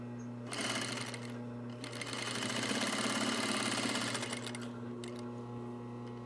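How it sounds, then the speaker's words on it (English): A sewing machine runs top stitching on a fabric shoulder bag, a close, steady mechanical whir with rapid needle clatter that speeds up and slows in bursts before easing off. "We'll top stitch with 2 rows of top stitching."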